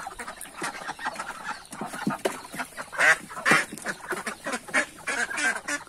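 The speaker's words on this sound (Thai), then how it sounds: "เป็ดพวกนี้มันขี้ตื่นนะครับ" A flock of skittish farm ducks quacks in overlapping bursts, close and lively, with louder calls standing out over the noisy chatter, and no talking.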